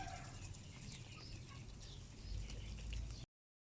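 Chickens and ducks on a sunny house rooftop give faint clucks and calls over a steady, noisy background, fairly distant and low in level until it cuts off.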